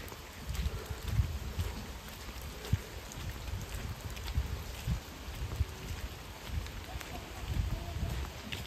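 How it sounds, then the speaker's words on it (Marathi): Rain falling steadily during an outdoor temple procession, a diffuse low patter with occasional louder drops and faint background murmur, moderately distant. "पाऊस थांबण्याची किती वेळ वाट बघते पण थांबतच नाही"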